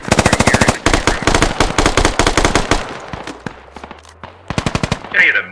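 Machine gun fire in the tactical shooter Squad: long, loud, rapid bursts rattle close by, with a pause, then further short bursts and scattered distant shots.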